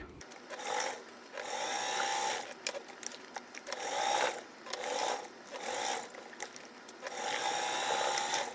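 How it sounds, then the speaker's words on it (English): A sewing machine stitching fabric for a tote bag in repeated bursts of fast mechanical whirring, with short quieter pauses between runs as the fabric is moved along, heard close and steady. "So we are going to sew this way, and the fabric, I am just moving it out of the way as I go."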